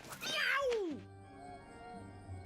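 A kitten in the game Mewgenics lets out a single high, bending meow, close and clear, then the game's quiet background music plays with faint chirps.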